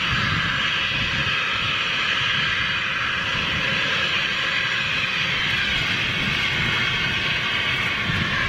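An ATR turboprop airliner arriving at London City airport, a steady loud engine drone with a broad roar and humming tones holding constant from start to end.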